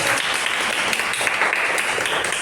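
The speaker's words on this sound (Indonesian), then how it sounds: "Kasih tepuk tangan untuk temannya." Pupils in a classroom clap for a classmate after a lesson on Cartesian coordinates, a dense burst of many hands applauding continuously for a couple of seconds.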